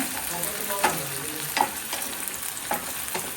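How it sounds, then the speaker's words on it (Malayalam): Small onions and green chillies frying in a pan, a constant close sizzle broken by a few sharp stirring clicks and pops, no voices. "ഇതൊന്ന് നന്നായിട്ടൊന്ന് മൂത്ത് വരട്ടെ"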